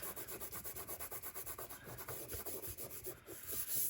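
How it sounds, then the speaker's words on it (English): Fingertips rubbing glued paper flat onto a wooden block, a close, quiet, rhythmic scrubbing with even strokes about four per second, with no other sound. "by doing this with your fingers, it kind of burnishes the whole thing down so it stays."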